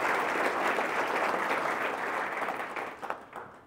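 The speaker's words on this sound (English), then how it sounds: "Let's have a big round of applause for the Wells Group for doing this for 24 years." A room full of people applauding at a local real estate market forecast event, a dense, even roar of clapping that holds steady and then thins out and tapers off near the end.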